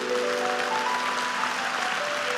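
A church congregation applauds during a sermon, a continuous wash of many hands clapping at moderate volume, with a faint sustained musical tone underneath.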